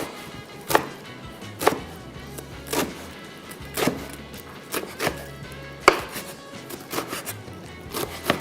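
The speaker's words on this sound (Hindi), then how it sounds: "इस पीसेस को थोड़ा सा छोटे साइज़ में काटेंगे" A knife chops Chinese cabbage pieces for kimchi in sharp, separate strikes about a second apart, roughly ten loud close thuds with quiet gaps between them and no talking.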